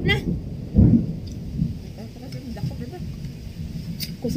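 Thunder rumbles loudly once near the start during a rainstorm, followed by softer rolling rumbles under a steady wash of rain, with scattered low voices heard nearby.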